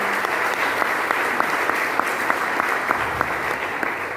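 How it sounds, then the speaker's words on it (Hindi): Loud, dense applause from an audience at a success-story talk, a continuous roar of many clapping hands for about four seconds with occasional sharper claps standing out. "एक बार धीमान सर के लिए जोरदार तालियां।"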